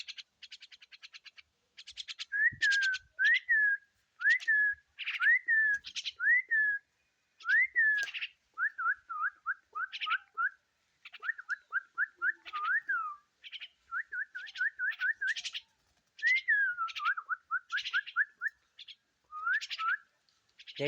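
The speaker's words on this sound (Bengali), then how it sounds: "ইতিমধ্যে আপনারা দেখতে পাচ্ছেন 2টা পাখি ভিতরে আছে। এভাবে সারাদিন ডাকবে" Two caged pet birds chirp and give repeated whistled calls, close and clear, in steady rhythmic phrases with short gaps running through the whole stretch and no voices.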